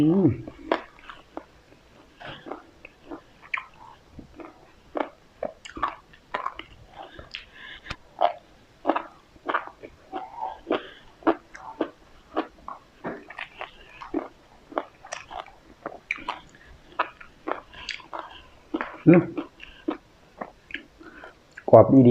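Crispy pork eaten with spicy papaya salad gives close, rapid crunching bites and chewing that repeat in an irregular rhythm, with occasional soft vocal sounds.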